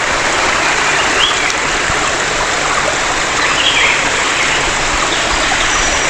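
Steady broadband rush of a nearby waterfall and flowing stream in a deep forest in Hot District, Chiang Mai, Thailand, constant and loud with no pauses, no voices present.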